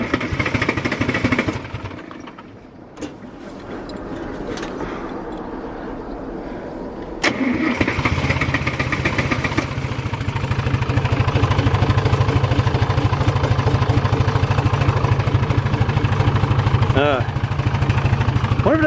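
An abandoned 1960s Pettibone machine's engine cranks and sputters, then catches and settles into a loud, rough, rhythmic idle close by, with a person talking over it.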